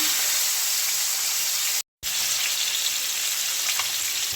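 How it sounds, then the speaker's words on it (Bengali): Rohu fish pieces fry in hot oil for a Bengali doi rui, giving a loud, continuous sizzle with one brief gap of silence partway through. "তেল আমার গরম হয়ে গেছে, মাছগুলো আমি এবার দিয়ে দিলাম।"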